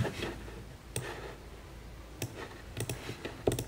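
Computer keyboard typing at a desk, with sparse, soft key clicks in small irregular bursts over a quiet room hum.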